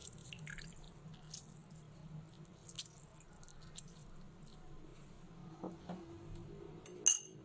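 A ginger and honey fat-cutter drink is stirred in a glass, giving soft, faint liquid swishes and drips with a few light clinks of a spoon against glass, the sharpest near the end, with no voices.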